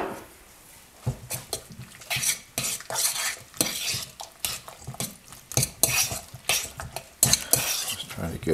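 A pasta frittata mixture with mushrooms, broccoli and egg is stirred in a pan, giving close, irregular scraping and clinking of a utensil against the pan with a faint sizzle underneath and no voice.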